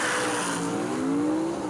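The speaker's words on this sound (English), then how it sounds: "Watch this car leave the line, folks." Gasser drag race car at a Southeast Gassers event in Knoxville, its engine roaring loud and steady as the revs climb in a rising pitch sweep while it launches off the line.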